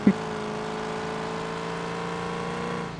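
Engine exhaust roars in a driving video game, a steady sustained revving tone after a brief initial blip, holding level for about three seconds with no talk over it.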